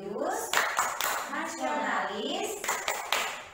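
A primary school class claps the rhythmic tepuk PPK chant, sharp hand claps in patterned bursts while children chant and a teacher's voice leads along with them.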